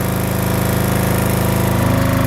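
A SENCI SC7500Q portable generator runs steadily with a loud, even engine drone and a dense mechanical rattle, close by, with no pauses or talk.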